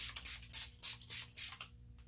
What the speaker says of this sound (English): I'm gonna spray my face one more time